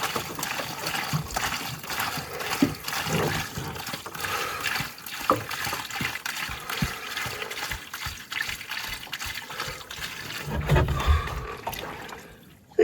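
Water sloshes and splashes steadily while laundry is rinsed by hand in a tub at an RV campsite, with a louder burst of churning near the end and no talking.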